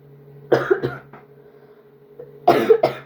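Two close bouts of coughing, each a quick cluster of two or three harsh coughs, separated by a quiet pause over a low steady hum.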